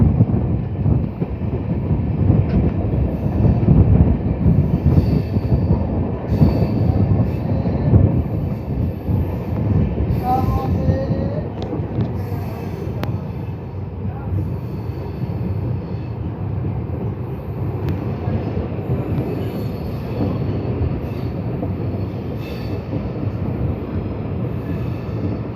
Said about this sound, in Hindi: अपने डेस्टिनेशन पर अब हमारी ट्रेन रेंगना शुरू कर चुकी है